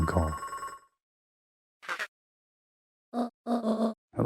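A telephone in the video game Beacon Pines rings in short electronic bursts separated by silent gaps, following a brief chime at the start.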